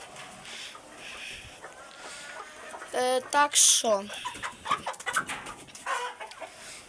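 Chickens cluck and roosters call nearby in a short burst, with scattered clucking continuing as a person talks over the birds.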